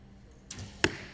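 A recurve bow shot at an outdoor junior men's team archery final: a soft release whoosh followed by a sharp, crisp arrow impact, brief and alone.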